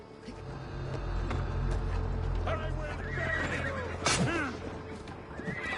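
A horse in the game Assassin's Creed whinnies over a steady low rumble, with hoofbeats clopping along and faint voices in the background.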